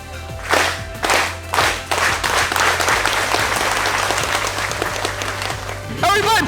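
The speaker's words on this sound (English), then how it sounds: "You gotta clap when I clap." Wedding guests clap together in a few separate, loud bursts, then break into sustained applause and cheering at a wedding reception, with voices mixed into the crowd noise.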